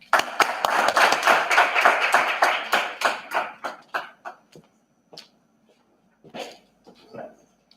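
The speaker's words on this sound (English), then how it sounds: "Just give him a round of applause" Conference audience applause for an award winner at the podium, loud and dense at first, then thinning to scattered claps that fade out, with a few isolated late claps.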